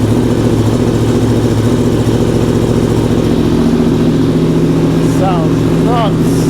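A 2024 Yamaha R1M fitted with an Akrapovic Evolution Line full exhaust system runs close by with a loud, steady low engine rumble, joined near the end by a couple of brief rising revs.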